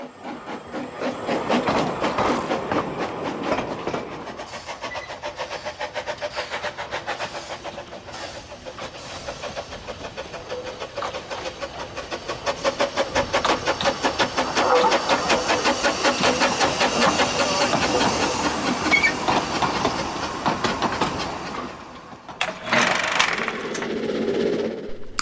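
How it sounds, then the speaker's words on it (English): A steam locomotive running on a heritage railway, a steady continuous rumble and rhythmic chuffing with hiss throughout, loud and close, with a brief clanking burst near the end. "seeing the finished loco running on what is probably my favourite railway in the world"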